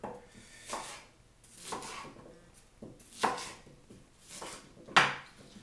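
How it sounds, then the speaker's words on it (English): A knife chopping through a jicama root on a cutting board, cutting it into large sections: a handful of separate thuds and crunches spaced about a second apart, close and fairly quiet. "we're just going to basically pre-cut it up in a couple of large sections so it'll be easier to process in the food processor"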